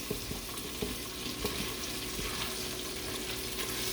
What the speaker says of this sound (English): About halfway through the sauteing process